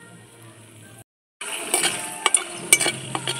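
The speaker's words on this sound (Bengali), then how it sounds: "ফোড়নটা একটু তেলের মধ্যে ভেজে নেব।" Bay leaf, whole garam masala and dried red chillies hit hot fish oil in a pan, giving a steady close crackling sizzle after a brief silence, with sharp pops and a few clinks of a spoon against the pan.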